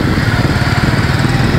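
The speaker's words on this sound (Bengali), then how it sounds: "বাইক পার করবে" A small motorcycle engine runs steadily and loudly up close while being ridden across toward a beach at a Kuakata camping site, its buzzing drone constant with no talk.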